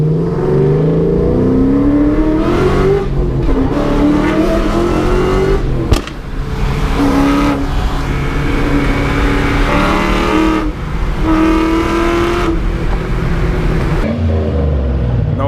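A car engine revving hard with VTEC engaging, repeated loud climbing sweeps in pitch with brief drops between pulls, close and aggressive, with wind and road noise underneath.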